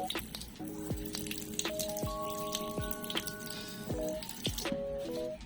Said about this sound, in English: So here I'm just getting a glass and water from the fry tank.